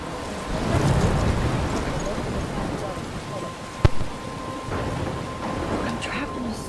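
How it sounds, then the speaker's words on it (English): Steady rain and wind in a thunderstorm in the video game Life is Strange, with one sharp, close thunder crack partway through and the rain hissing on throughout. "I'm trapped in a storm?"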